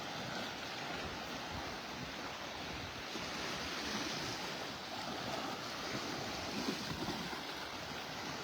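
Ocean waves roll over a sandbar off a North Naples, Florida beach, a steady broadband wash of surf with light wind noise, continuous and fairly distant, no voices.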